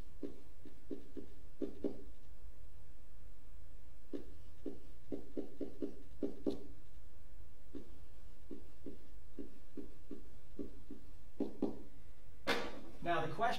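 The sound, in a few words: writing down names on paper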